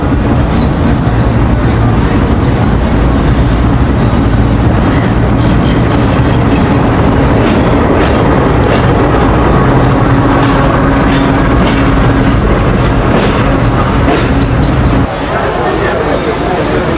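Train on the Rajshahi to Nachole line runs loud and steady on the rails with rhythmic clatter and rumble, and voices are heard underneath.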